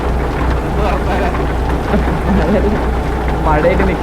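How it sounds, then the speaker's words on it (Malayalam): Rain in American Truck Simulator falls as a steady, dense patter with low rumbling underneath, while someone talks over it throughout. "ഞാനിപ്പോ വന്നിട്ട് ആദ്യത്തെ മഴയാണ് കേട്ടോ"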